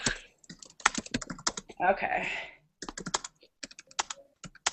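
Several people typing on computer keyboards during a live group online hangout, rapid clicky keystrokes in bursts, close to the microphone, with a brief voice at the start and a short rush of other noise partway through.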